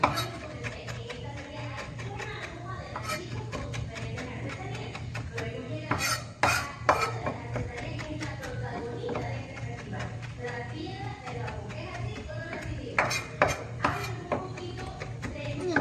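A knife chops rosemary on a board, many quick light taps and clinks in an uneven rhythm, with a few sharper clatters, against a steady low hum in a home kitchen.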